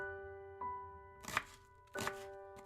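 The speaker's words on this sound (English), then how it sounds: "the sound of chopping echoed through your kitchen" Chocolate blocks are chopped on a cutting board in the Bloody Painter video game, two distinct knife thunks about a second apart over a quiet sustained musical tone, close and clear with no talking.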